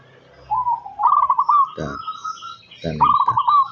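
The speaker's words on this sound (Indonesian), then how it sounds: "ini perkutut liar ya" Wild zebra dove (perkutut) giving soft, warbling coos in a few separate phrases, close and fairly clear, with low thumping sounds in between.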